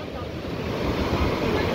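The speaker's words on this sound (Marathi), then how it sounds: "आणि लाटा तर एकदम खतरनाक आहे बघा" Rough sea waves roll in at crowded Calangute beach in Goa, a continuous broad roar of surf blended with wind buffeting the microphone, steady and loud throughout.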